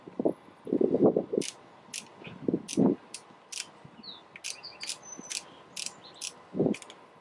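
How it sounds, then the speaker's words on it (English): A Scalarworks mount for an Aimpoint optic gives a series of crisp, small mechanical clicks as its ball detent engages, spaced irregularly and heard up close against faint handling noise. "So it clicks. There's a little ball detent here."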